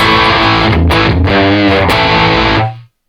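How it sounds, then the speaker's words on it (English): Electric guitar through heavy distortion for hard rock, a loud, thick, saturated chord sequence of a few sustained strums that rings out and cuts off cleanly at the end, with no talking. "distortion is where the real dirt comes in. Perfect for hard rock or metal."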